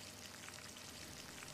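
Tamarind water for a spicy small-onion kuzhambu bubbles in a pot, a soft, steady, close crackling simmer heard on its own.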